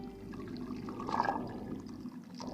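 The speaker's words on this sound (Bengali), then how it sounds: "আমি এটা এখন এর মধ্যে ঢেলে নেব।" Lukewarm milk poured into a pot of ghee-fried laccha semai, a soft liquid stream gurgling briefly at moderate volume over a faint background hum.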